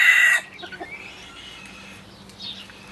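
Backyard chickens roost on low tree branches in an organic forest garden at evening, with a loud burst of high squawking at the start, then soft scattered clucks and chatter from the flock as they preen.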